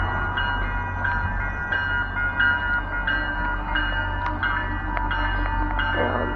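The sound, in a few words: MBTA Purple Line commuter train passing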